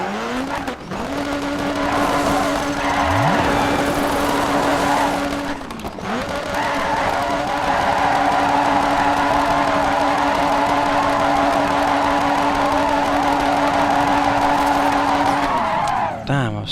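A rally car in Dirt 3 revving hard while spinning and skidding, a loud engine drone with shifting pitch and tire scrubbing that runs for many seconds, briefly dropping as the revs change.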